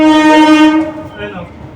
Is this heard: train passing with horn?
yes